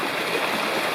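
A mountain stream near a waterfall in Nantahala National Forest rushes in a steady, close, hissing wash of water, alone with no voices.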